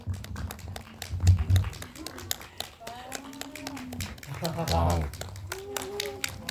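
Audience applause greets guests at a Korean film screening talk event, a burst of clapping that swells and fades under a host's speech.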